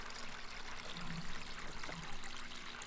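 Water spills over a small waterfall into a backyard koi pond with floating frogbit, a steady, moderately close trickling rush that runs evenly throughout with no voices.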